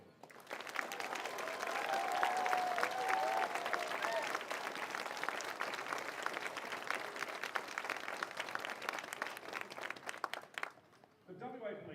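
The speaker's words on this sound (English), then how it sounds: "Please join me in congratulating them with a round of applause." Sustained applause from a crowd for graduating recruits at a Western Australia Police Force academy ceremony, steady dense clapping for about ten seconds before cutting off, followed by a brief voice.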